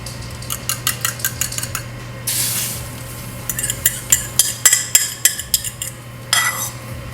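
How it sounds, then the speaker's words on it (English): A utensil scrapes and clicks rapidly against a stainless steel sauté pan while eggs are scrambled, with a soft sizzle and a brief burst of louder frying in between; close and rhythmic, with no talking. "So you basically want to scramble right now because we're going to use it to make some eggs."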